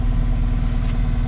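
A Cat 259D3 mini track loader engine runs loud and steady up close, a deep continuous drone as the pedal raises the revs, with no talking.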